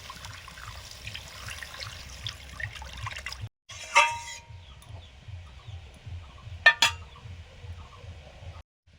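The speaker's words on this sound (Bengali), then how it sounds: "এবার জল দিয়ে দিচ্ছি।" Water is poured into a pan of frying spices while cooking red amaranth greens, giving brief hissing splashes over a steady low hum, with fowl clucking faintly in the background.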